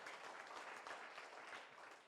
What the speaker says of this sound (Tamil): சிறப்பான கைத்தட்டல்.